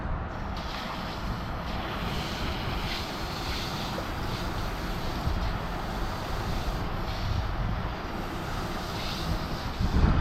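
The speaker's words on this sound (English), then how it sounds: "I got the wind coming in, so let me see if it dies down a bit." Strong outdoor wind blusters across the microphone as a steady, loud broadband roar that keeps going for the whole stretch, with slight gusts toward the end.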